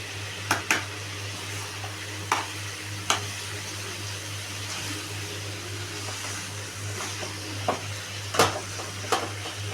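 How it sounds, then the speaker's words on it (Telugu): Carrots frying in a pan while being stirred: a steady low sizzle runs throughout, broken by a scattering of sharp scrapes and clinks of the spoon against the pan, close by with no talking. "చూడండి కొంచెం క్యారెట్ మగ్గేదాకా కలపాలి."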